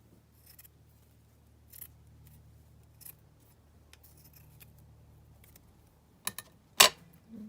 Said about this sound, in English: I'm going to just cut that header down again.